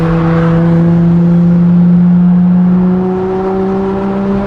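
A powerful Ferrari LaFerrari engine drones steadily at high revs with rising harmonic tones, loud and close, sustained throughout without a break.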